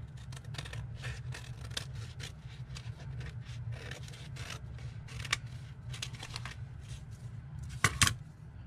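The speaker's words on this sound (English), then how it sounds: "I think I actually will go ahead and trim the gluey bits now" Scissors trimming glued paper scraps for a handmade journal, giving a fast run of close, crisp snips and rustles with a few louder cuts near the end, no talking.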